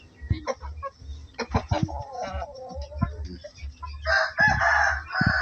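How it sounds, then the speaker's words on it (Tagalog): A rooster crows loudly near the end, preceded by clucking free-range native chickens and brief scattered noises from a farmyard. "Yung tandang doon sa kabila yun."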